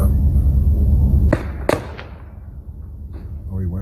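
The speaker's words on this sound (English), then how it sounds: "followed by the sound of gunfire" Gunfire at a residence during a police shooting, caught on a bystander's phone: a couple of sharp, loud cracks stand out from a noisy background, with voices before and after.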